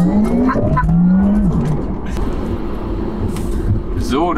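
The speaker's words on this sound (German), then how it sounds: "Jetzt haben wir eine rote Ampel, dann machen wir nochmal eine letzte Launch Control, würde ich sagen." Porsche Taycan Turbo electric sedan pulling away on a launch control start from a red light, a rising whine from the motors with brief tire noise, heard from inside the cabin while people talk.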